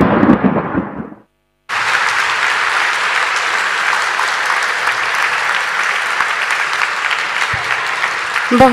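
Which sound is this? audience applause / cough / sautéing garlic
audience applause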